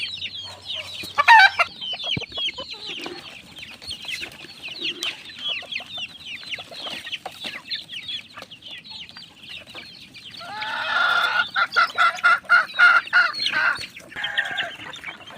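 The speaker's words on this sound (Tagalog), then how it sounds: "Ayan po mga kaibigan yung ating sisiw dito sa loob ng kulungan." Chicks kept in a cage peep and cluck at feeding time, scattered bursts of chirping early on, then a denser, busier flurry of calls near the end, fairly close with no talking.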